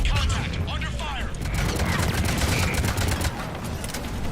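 Dense rapid gunfire from a Mass Effect 3 Legendary Edition firefight, bursts overlapping into a steady clatter with booming low end, faint voices briefly under the shots.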